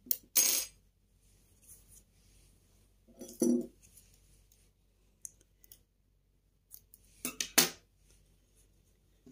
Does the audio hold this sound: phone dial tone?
no